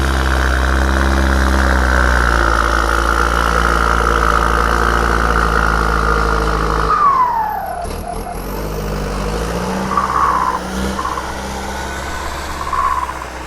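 A heavy Isuzu MU-7 SUV engine fitted with a changed turbo runs loud and close, holding a high rev before dropping off with a sweeping turbo whine, then settling into a rough idle with small blips of throttle.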